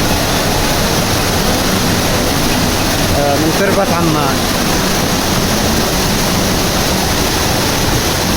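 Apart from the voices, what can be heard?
Tasih waterfall rushing, Al-Radmah, Ibb governorate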